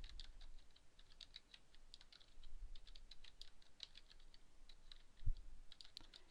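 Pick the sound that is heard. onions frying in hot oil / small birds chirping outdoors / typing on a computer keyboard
typing on a computer keyboard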